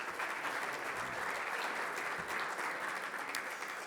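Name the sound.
audience applause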